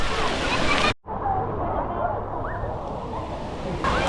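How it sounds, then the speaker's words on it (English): Waves roll and slosh through a crowded waterpark wave pool in El Salvador, a steady wash of surf with babbling voices and splashing throughout, interrupted by one brief sharp cut. "Here comes the waves."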